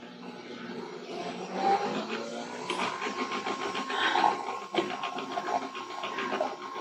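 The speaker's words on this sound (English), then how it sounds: "okay, my machine's ready. My capsule's in there. Let's do this." A Nespresso machine brews a Barista Creations Chocolate Fudge capsule, its pump buzzing and humming steadily with gurgling, sputtering bursts as the coffee flows, fairly close and without any talking.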